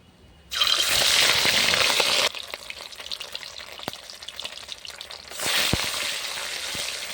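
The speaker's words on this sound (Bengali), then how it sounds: "তেল গরম হয়ে ভালো করে গরম হয়ে গেছে মাছগুলো ছেড়ে দেবো" Bata river fish drop into hot oil and fry, bursting into a loud sizzle that fades to gentle crackling and then swells again as more pieces go in.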